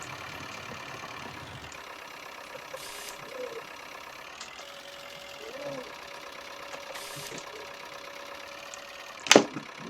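A tractor engine running at a steady idle before ploughing, a continuous mid-pitched hum with faint shifts in tone and a sharp click near the end.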